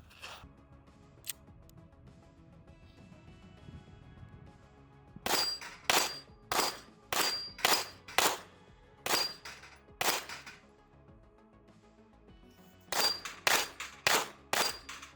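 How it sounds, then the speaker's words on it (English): Rapid pistol shots from a Staccato XLI-style 2011 handgun ring off a steel plate rack, arriving in quick clusters of sharp cracks with metallic pings, the first strings after a quiet pause and a final fast burst near the end. "you can still like clear a plate rack fairly easy and fairly quickly"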